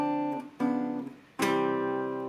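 Three sustained guitar chords in a chord-melody arrangement, the last bars using a tritone substitution, each struck and left ringing with a warm, layered tone, close and clear with no talking.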